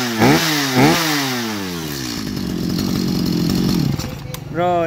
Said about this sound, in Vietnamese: Máy nổ thi thầm luôn anh em ạ.